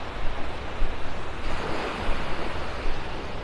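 Ocean surf rolls onto the beach at Pelican Bay in North Naples, Florida, a steady wash of breaking waves with some wind rumble, continuous and fairly loud with no talking.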